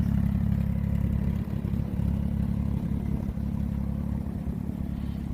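An off-road car with a stock engine, Tiptronic manually shifted automatic transmission and custom exhaust idles steadily nearby, giving a deep, continuous rumble with a slight clattery texture and no talking over it.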